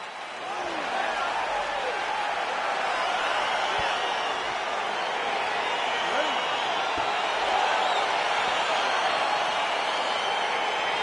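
Arena crowd roaring steadily throughout a UFC 4 video game fight as it gets underway, a dense, continuous wash of cheering with faint voices rising within it.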